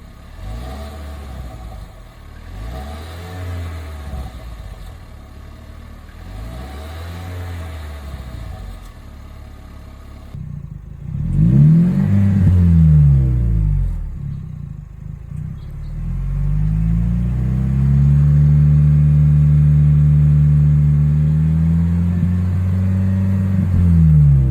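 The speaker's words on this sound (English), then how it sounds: "If you want to hear a little bit cooler sound in your truck, the Magnaflow definitely adds a little bit without being obnoxious." A Ford Maverick truck fitted with a Magnaflow 19597 cat-back exhaust revs repeatedly, loud and close, with rising and falling engine swells followed by a sustained deeper drone, no talking.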